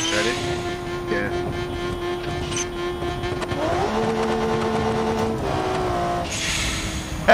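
A car in a realistic driving video game accelerates hard and spins out, its engine tone rising and shifting steadily across the clip.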